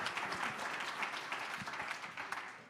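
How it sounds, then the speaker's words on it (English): Faint, distant audience applause at a jobs and workforce summit: a dense, even wash of many hands clapping that holds steady for a few seconds with no voices on top. "So if we could just give those folks a round of applause, I'd really appreciate it."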